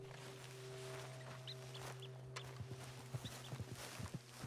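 Horse hooves clop in an irregular patter toward the end of a quiet Red Dead Redemption 2 scene, set against a low steady hum with faint bird and fowl calls in the background.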